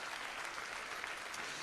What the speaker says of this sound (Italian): facciamo un applauso, ma sì